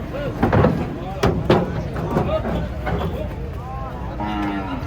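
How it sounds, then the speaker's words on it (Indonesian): Cattle moo repeatedly inside a truck at a farm delivery of a large cow, several loud drawn-out calls close by, mixed with people talking and a few knocks. "Di dalam tuh ada sapi guys ternyata guys."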